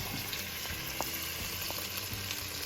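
Garlic sizzles steadily in a hot pan, frying at close range as a dense, even crackle with faint scattered pops throughout and no voices.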